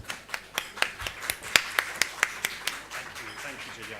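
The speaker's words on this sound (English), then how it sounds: "So round of applause for Jamie Angus." Sparse clapping for Jamie Angus at a talk on TV news, a handful of distinct sharp claps in a quick, uneven rhythm that thin out and fade toward the end.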